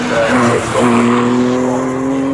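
Porsche race cars from the Porsche Club Championship and Classic Boxster Cup thunder past at Snetterton circuit, loud engines droning close by with pitch climbing steadily as they accelerate.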